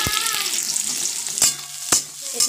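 Onions sizzle in hot oil in a pan while a spatula scrapes and stirs them, with a steady frying hiss and a few distinct clanks against the pan.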